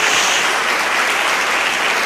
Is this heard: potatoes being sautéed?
no